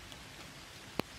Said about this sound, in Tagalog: Ulan na gyud.